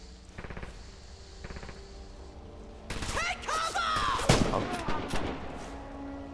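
Gunfire in the World War II shooter Red Orchestra 2: a few sharp shots early, then a loud burst of rapid firing with crackling echoes and ricochet-like whines in the second half.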